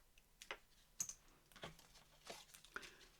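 Paper being cut for a grunge file folder, a faint series of short crisp snips and crinkles at an uneven pace, close by and quiet, with no talk.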